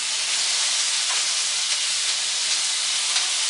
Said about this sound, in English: you want to get a nice, quick sear on it